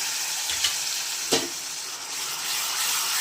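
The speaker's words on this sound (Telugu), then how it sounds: "ఇప్పుడు అల్లం వెల్లుల్లి పేస్ట్ బాగా పచ్చి వాసన పోయేంత వరకు వేయించుకుందాం" Ginger garlic paste frying with light-browned onions in a pan for a Rayalaseema country chicken curry, a continuous close sizzle broken by two quick utensil scrapes, no talking.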